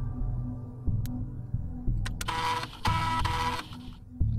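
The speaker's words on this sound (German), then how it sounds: "Mit Disketten-Sound." A mechanical whirring and buzzing of a floppy-disk save sound effect in the PC game Haydee, with clicks and brief bursts of grinding noise, fairly loud and heard without talk.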